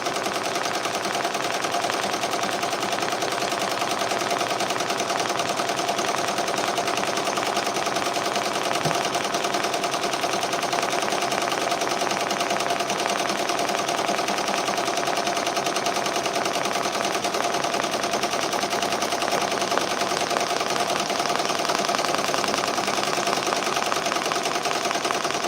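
Embroidery machine stitching out a banana man design: a steady, rapid mechanical needle chatter that runs continuously at even volume throughout, close and alone without talk.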